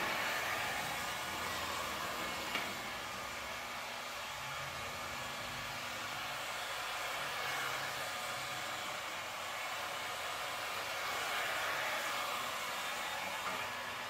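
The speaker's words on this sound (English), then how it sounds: "Turn this heat gun off." A heat gun blows hot air steadily during a van graphics installation, a continuous broadband hiss like a hair dryer, fairly faint and even, with no speech.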